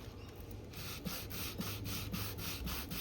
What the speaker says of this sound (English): So let's sand and see what it does.